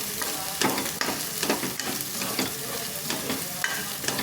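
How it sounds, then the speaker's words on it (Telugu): Ingredients for a goat tripe curry are fried with a little salt, and a continuous sizzle runs under repeated spatula strokes and scrapes against the pan at a fairly even pace. "కొద్దిగా ఉప్పు, ఇవన్నీ వేసుకొని ఫ్రై చేసుకోవాలి"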